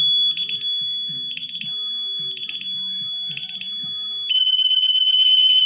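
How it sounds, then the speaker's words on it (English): A loud, piercing electronic alarm from an ADT Impassa home security system beeps in repeated bursts, then switches to a continuous rapid shrill siren tone. "that alarm is extremely loud"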